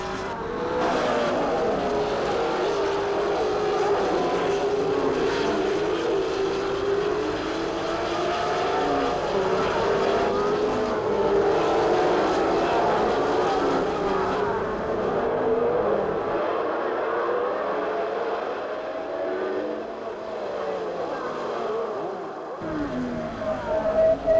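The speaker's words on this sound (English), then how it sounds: "That was Beltois and the Matra, all crossed up at Druid's Bend." A Matra racing car works through Druid's Bend, its engine a sustained, loud roar whose pitch rises and falls steadily as it passes.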